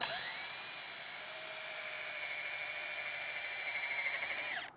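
A drill fitted with a buffer pad polishing a MINI headlight lens with Meguiar's Ultimate Compound, a steady high-pitched whine held for several seconds before spinning down, close and alone.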